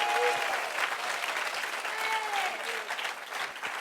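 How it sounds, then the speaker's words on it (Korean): A church congregation claps together in a sustained burst of applause during a Sunday service, with a few faint voices and tones running underneath. "우리 주님께 영광의 박수 올려드립시다."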